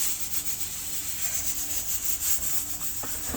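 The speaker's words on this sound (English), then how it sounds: "I will use my hand to rub in all the seasonings." A hand rubs seasonings into raw oxtail, giving a soft, steady, close rubbing and squishing with a few light handling noises and no talking.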